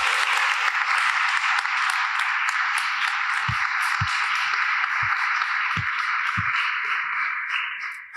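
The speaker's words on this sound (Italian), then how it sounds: "e gli facciamo un applauso per salutarlo" Audience applause sending off the author at an Italian book presentation, a dense hiss of many hands, fairly distant and steady, with a few low thumps partway through, fading at the very end.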